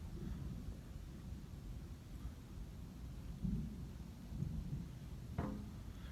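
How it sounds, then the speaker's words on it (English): Low, distant thunder rumbles on continuously beneath faint background hiss, swelling slightly a few times, with no voices. "It's just one constant roll of thunder."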